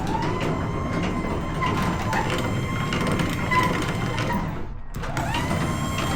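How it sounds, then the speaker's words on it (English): Grinding, ratcheting clatter of 3D printed gears meshing in a small vehicle build, close and continuous with a brief dip near the end before resuming. "That horrible noise is the gears meshing."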